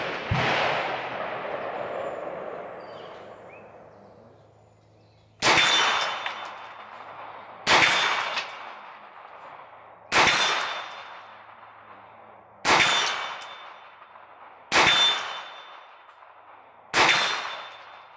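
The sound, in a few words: gunshots from a Hi-Point 995TS carbine at the range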